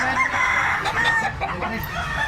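A white-legged stag rooster, a spangle white, clucks and crows at close range in a short, loud burst with a harsh strained tone.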